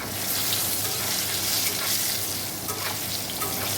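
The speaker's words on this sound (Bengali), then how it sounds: "পনির ভাজা হচ্ছে" Paneer frying in a pan, a loud continuous sizzle and crackle of hot oil heard up close with no voices.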